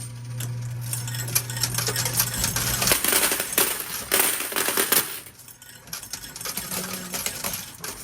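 Quarters clatter and jingle repeatedly inside a high-limit coin pusher machine, a busy rattling cascade over a low mechanical hum, close up with no talking.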